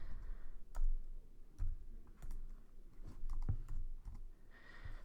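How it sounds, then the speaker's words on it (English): Someone typing numbers into a Java program on a computer keyboard, quiet irregular clicks and taps in short bursts with pauses, close but soft. "So let's type in some random values."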